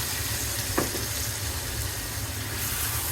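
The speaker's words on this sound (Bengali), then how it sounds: "এখন আমি রান্না করার জন্য ঝোল দিয়ে দিচ্ছি।" Broth poured into a pan of frying prawns, a steady close sizzle with one brief splash of liquid near the start, no voices.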